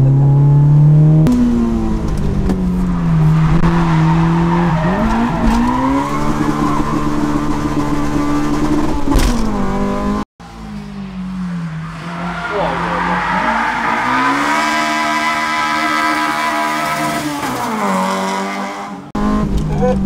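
A 2023 Honda Civic Type R slides with loud, sustained tire squeal and a revving engine rising and falling across two long skids, broken by a brief cut, with people talking underneath.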